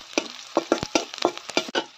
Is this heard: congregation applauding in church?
no